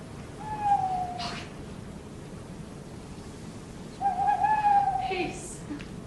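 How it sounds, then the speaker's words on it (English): An owl hoots twice in a stage production of Macbeth, each a drawn-out tonal cry about three seconds apart over a faint steady hiss. "It was the owl that shrieked."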